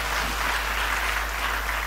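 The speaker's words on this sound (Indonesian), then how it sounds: "Yang setuju berikan tepuk tangan." Church congregation clapping in steady, dense applause throughout, fairly loud and continuous with no voices over it.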